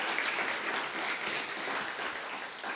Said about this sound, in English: So I think this also deserves another round of applause,